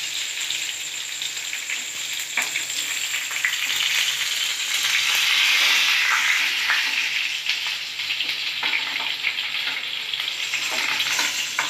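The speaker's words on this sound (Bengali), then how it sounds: "বাকিগুলো এভাবে ভেজে নেব" Pointed gourd (potol) pieces deep-frying in hot oil, a dense, steady crackling sizzle up close with scattered pops and a brief swell of louder hissing midway, no voices.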